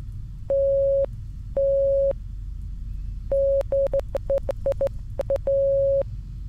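Morse code beeps from a video game: a steady electronic tone in long dashes and short dot bursts, sounding alone at moderate loudness with brief silent gaps between groups.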